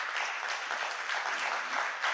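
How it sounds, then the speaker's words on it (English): Applause from a semiconductor ecosystem conference audience for a panel, a dense patter of many hands clapping at moderate distance, steady for a couple of seconds without any speech. "A very big round of applause."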